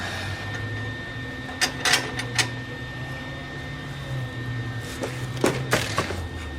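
Tack welds on go-kart swing arm brackets crackle in two short clusters of sharp bursts, quiet between them, with a steady low hum of the welder and shop in the background.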